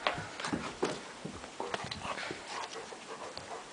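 A spoiled pet dog pants in quick, uneven breaths, mixed with scuffling, light thumps and small whimper-like noises up close, with no talking.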